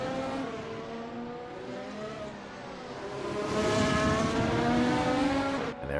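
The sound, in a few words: race car passing on the circuit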